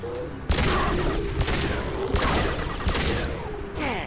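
Pistol shots ring out in the Mass Effect 2 video game, with several sharp cracks spaced roughly a second apart over a dense, loud backdrop of combat noise.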